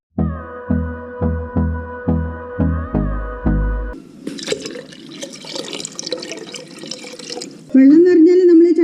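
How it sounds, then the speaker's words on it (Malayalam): Water is poured into a cooking pot over onions and tomatoes for rasam, a splashing, gurgling pour heard after a run of rhythmic tonal pulses, ending with a rising whistle-like tone. "ഉള്ളിയും തക്കാളിയും ഇതിലേക്ക് നിറച്ചും വെള്ളം ഒഴിച്ചു കൊടുക്കാം."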